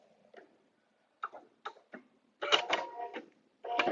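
A sewing machine locks threads at the end of a seam on a paper-pieced butterfly dresser scarf, giving a few short bursts of mechanical clicking stitches that start faint and grow louder and denser near the end.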